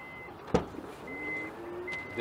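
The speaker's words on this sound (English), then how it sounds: "the vehicle also, or the boot, opens itself automatically" Toyota Fortuner power tailgate opening by itself, announced by a sharp click then a series of high electronic warning beeps with a soft motor whir between them, fairly quiet and close.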